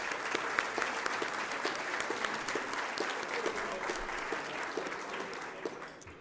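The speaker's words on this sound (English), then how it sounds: "let's have a round of applause for Calamus and their staff and for that wonderful meal" Sustained applause from an audience at a luncheon, a dense steady patter of many hands clapping at moderate distance, with no voices over it.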